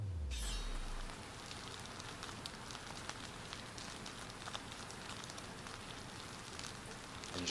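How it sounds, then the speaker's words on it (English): Steady rain falling and pattering on a surface, a dense even hiss with scattered droplet ticks, close and soft, continuing alone after a brief low thud at the start. "And just let the rain fall"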